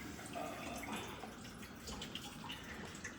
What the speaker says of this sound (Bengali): পালং শাক ধুচ্ছি